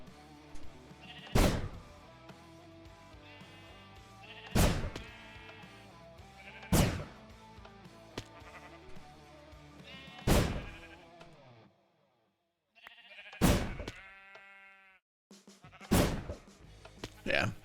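Sheep bleating in a Minecraft-style video game, six loud separate bleats spread out at regular gaps, each one harmonic and wavering and heard close up, with short silent pauses between some of them.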